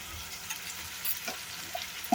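Egg curry seasoned with turmeric and salt being stirred in a pan, giving a soft, steady frying hiss with a few faint scraping clinks and one sharper knock near the end, with no talking.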